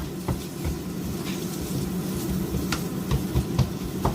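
Onions, chili and beans being stirred in a pan, with a low steady sizzle and scattered scraping clicks of the utensil against the pan throughout.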